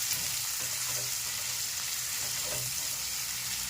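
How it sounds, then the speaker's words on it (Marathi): Finely chopped onion sizzles steadily in hot oil with cumin and mustard seeds for a Maharashtrian stuffed brinjal masala, a close, continuous crackling hiss with occasional soft stirring scrapes. "बारीक चिरलेला कांदा आहे तो टाकून घ्यायचा आहे आणि चांगला लालसर होईपर्यंत आपल्याला कांदा यामध्ये परतून घ्यायचा आहे"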